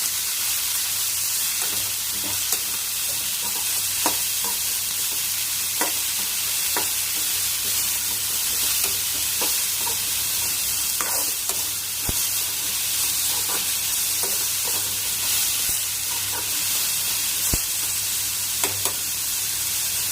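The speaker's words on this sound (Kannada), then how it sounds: "ಸೊ ಇದು ಚೆನ್ನಾಗಿ ಫ್ರೈ ಆಗಬೇಕು." Mint leaves frying and being stirred in a pan, a steady close sizzle broken by repeated scraping and clicking strokes of a spoon against the pan throughout, with no talking.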